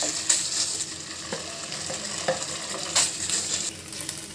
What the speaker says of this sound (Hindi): अब मैं इसमें खोआ डाल के इसको भून लूँगी अच्छे से